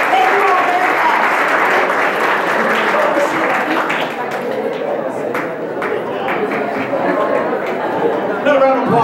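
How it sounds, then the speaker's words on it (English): Audience applauding a leadership speaker, loud dense clapping sustained for several seconds with some crowd chatter and voices mixed in. "Another round of applause for Colleen Kettenhofen."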